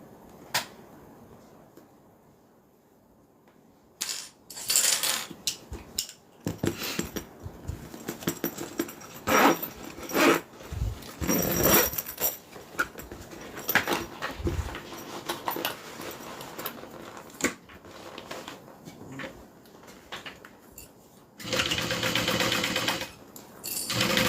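Domestic sewing machine stitching a fabric train case, running in uneven bursts of rapid mechanical clatter after a quiet start, with a longer steady run near the end.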